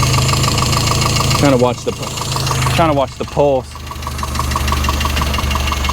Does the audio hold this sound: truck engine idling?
yes